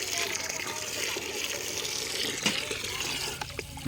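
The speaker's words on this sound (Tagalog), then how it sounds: "Lakas po ng tubig." Strong mountain water gushes continuously beside a highway in a loud, splashing rush, with faint voices now and then beneath it.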